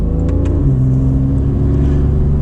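Porsche 991.1 Carrera S flat-six accelerating hard from inside the cabin, its steady engine drone stepping down in pitch through a quick PDK upshift partway through, loud and continuous with no talking.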